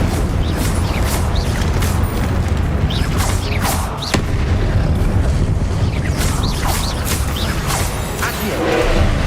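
Confringo fire spell blasting in Hogwarts Legacy, a loud, dense stream of booming impacts and whooshing bursts with no pauses, heavy low rumble under sharp crackling swishes throughout.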